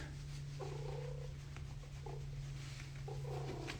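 A cat purrs close up, a steady low rumble that runs unbroken through the whole stretch, with a few faint higher tones drifting in the background.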